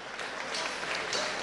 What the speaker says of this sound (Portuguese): Venha daí um grande aplauso para eles, por favor.